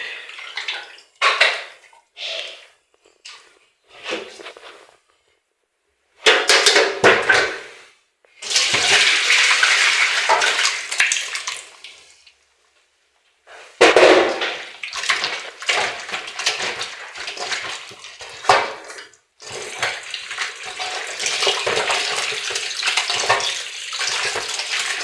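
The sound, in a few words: washing dough in water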